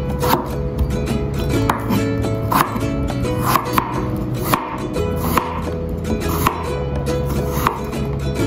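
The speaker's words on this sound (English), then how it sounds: "Peel and sliced potatoes." A knife slices peeled potatoes on a cutting board in a steady run of sharp, fairly loud chops, while a dog barks now and then in the background.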